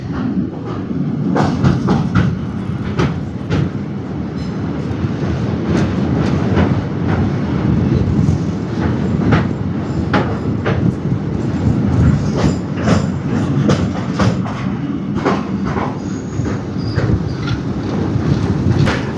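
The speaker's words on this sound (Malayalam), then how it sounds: "അങ്ങനെ നമ്മുടെ ഈ ട്രെയിൻ ഈ കാണുന്ന റോഡ് ബ്രിഡ്ജിന് അകത്തേക്ക് കയറും കേട്ടോ." A train rolls steadily along the rails, with a continuous low rumble and scattered clacks and squeaks from the wheels, with no talking.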